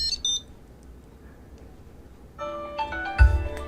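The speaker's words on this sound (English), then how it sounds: "And on the front here, you heard this beep." A Tile Mate Bluetooth tracker on a keychain sounds a short series of bright electronic beeps and chiming tones after its logo button is double-pressed, starting quietly and then a clearer melodic burst near the end.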